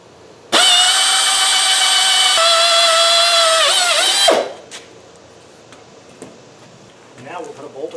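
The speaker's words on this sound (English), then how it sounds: "I'm going to go ahead and drill out another hole" A power drill whines loudly and steadily for about four seconds while boring a hole through a steel plate on a tractor upgrade, then spins down, followed by faint handling noises.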